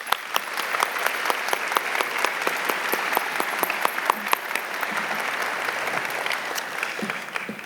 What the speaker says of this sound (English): Let's take a moment to applaud the generosity of these and all of our sponsors